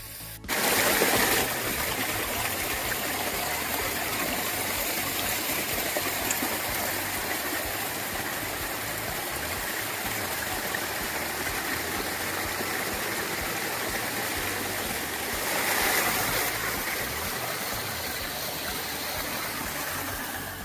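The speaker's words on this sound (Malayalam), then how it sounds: "മലമുകളിൽ നിന്നും വരുന്ന ചെറിയൊരു അരുവി." A small hillside stream flowing down from a hilltop near a banana plantation, a continuous loud rushing and splashing of water that stays steady throughout with no voices.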